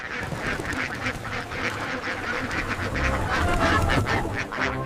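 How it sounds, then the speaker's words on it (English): Cartoon ducks quack repeatedly in a busy, overlapping chorus, close and fairly loud, with no talking. "Quack, quack."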